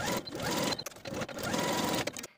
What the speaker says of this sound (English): So you're sewing this front waist yoke to the seam allowance from top to bottom